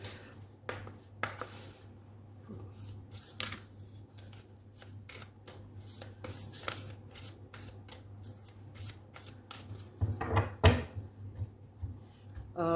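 Cards from a Moonology oracle deck being shuffled and drawn, close up: a run of soft, quick riffling snaps and flicks with a busier burst near the end, over a low steady hum, with no one talking.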